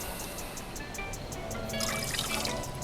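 Water pours and trickles into a pot of sugar for homemade Nuka Cola Quantum, a short, close splashing stream that swells toward the end.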